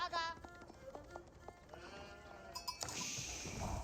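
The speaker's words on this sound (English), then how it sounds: "Scout finding some sheep." Sheep in the Age of Empires 4 video game bleat in short repeated calls against quiet ambient game sound, followed by a burst of brighter noisy effects near the end.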